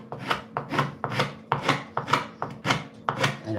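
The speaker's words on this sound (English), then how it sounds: "It's just all this cross-grain cutting." Cross-grain cutting of wood by hand gives a regular run of about eight close, rough rasping strokes, each a short scrape with a brief gap between, steady in rhythm and fairly loud.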